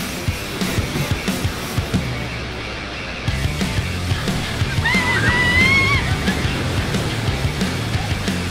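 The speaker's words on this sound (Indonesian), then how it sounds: "Jadi lumayan deras ombaknya." Strong sea waves wash and slosh over coral rocks on a rocky shore, a steady, fairly loud churning of water with splashes, and a few faint high calls over it.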